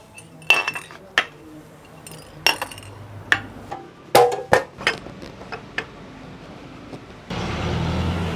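Sharp goli soda glass bottles clink and knock irregularly, a dozen or so bright hits, then a low mechanical whirring starts up and continues as the bottles are loaded and spun in a gassing machine.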